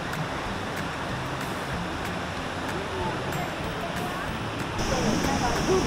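Yoro Falls in Gifu Prefecture, Japan, roars continuously with a steady, broad rush of falling water, fairly close, and people talk briefly over it.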